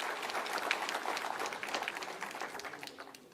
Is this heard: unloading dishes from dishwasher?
no